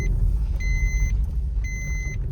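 Steady low traffic rumble of vehicles going by outside a crowded hospital, with two short electronic beeps repeating over the noise.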